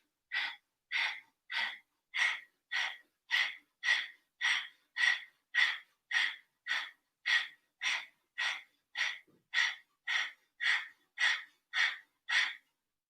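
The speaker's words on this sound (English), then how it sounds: "So Kapalbhati breathing starts to really generate a lot of heat inside the body" Kapalbhati yoga breathing: about twenty-two forceful, evenly spaced exhales through the nose, close and steady, with quiet pauses between each sharp puff.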